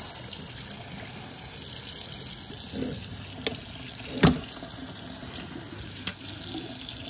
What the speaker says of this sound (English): So go ahead and give it a good rinse.